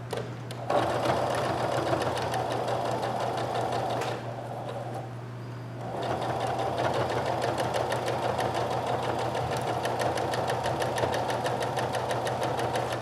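Sewing machine running steadily as it top-stitches a diagonal line on a sweatshirt pocket, a loud continuous motor whir with a brief slower dip midway before resuming at full speed, no talking.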